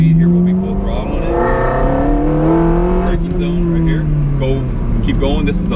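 A Ferrari 360 Modena engine pulls at full throttle on a track, its rising and shifting tone steady and loud inside the cabin while people talk over it.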